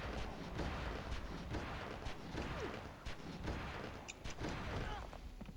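Gunfire in the Oni video game: a dense barrage of booming shots and blasts, loud and continuous with short sharp bursts, heavy game combat noise throughout.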